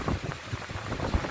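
Strong wind at the seaside, steady blustery rushing noise buffeting the microphone with low thumps, filling the short stretch with no talk.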